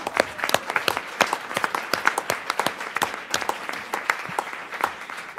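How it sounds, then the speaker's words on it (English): Applause for students at a school board meeting, a room of people clapping dense and sharp at a steady level the whole way through, with no talking. "let's do one more round of applause for our students"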